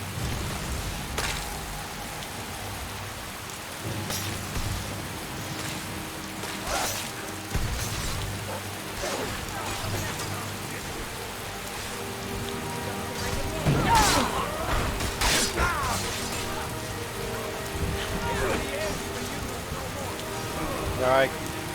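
Steady rain falls in Skyrim, a continuous hiss of drops over the landscape with scattered sharper hits and thumps, heard close and fairly loud throughout.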